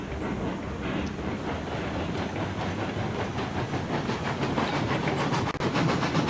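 A steam locomotive runs at full throttle in the video game Railroads Online, giving a steady, dense rumble and rattle of rolling stock with a continuous hiss, loud and constant throughout, with no talk.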